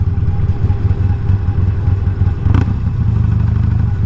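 A scooter's front end making noise while riding, heard as a steady mid-pitched engine drone with wind and road rumble, a brief clatter partway through, loud and close with no talking.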